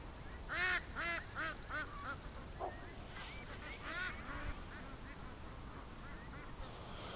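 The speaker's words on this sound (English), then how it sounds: "The ducks are hanging on this side of the shore." Ducks on a creek shore give a quick run of repeated quacks, about six calls in a row, faint and somewhat distant, with a few scattered calls afterward over steady outdoor background noise.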